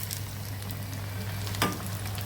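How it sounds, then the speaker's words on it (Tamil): Crispy vada snacks deep frying in oil, a soft, steady bubbling sizzle heard close but fairly quiet, with one brief sharper scrape partway through. "நல்லா உடையாமல் சூப்பராக ஃப்ரை ஆகிடுச்சு பாருங்கள்."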